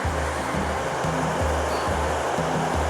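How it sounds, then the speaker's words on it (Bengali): High-tide surf rolls in at Bakkhali beach as a strong, unbroken roar of churning water layered over a throbbing low rumble, close and loud. "মানে এখন মোটামুটি জোয়ার আছে, যার জন্য এখন জলে প্রচুর ঢেউ আছে"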